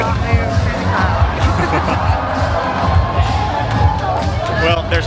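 Dense, packed crowd at a Chinese New Year celebration in Penang, Malaysia: continuous close-up hubbub of many overlapping voices with scattered shouts and cheers, busy and loud throughout.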